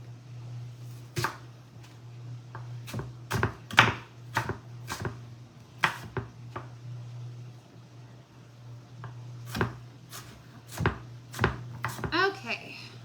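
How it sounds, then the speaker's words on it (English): Knife chopping an onion on a cutting board, a run of sharp, close, uneven chops in bursts with pauses between them, over a steady low hum from a kitchen appliance. "I cut my onion this way first, and then I chop this way"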